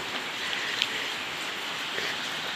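Rain falls at a village temple on a road trip near Thong Pha Phum. It makes a soft, steady, even hiss with a few faint drop ticks and nothing else in the foreground.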